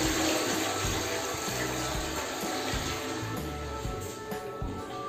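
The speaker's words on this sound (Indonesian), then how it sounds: "setelah toilet bowl digosok, langkah berikutnya adalah untuk flush kembali." Toilet flushing after the bowl has been scrubbed during hotel room housekeeping: a steady, broad rush of water that runs continuously at close range for several seconds, with no talk over it.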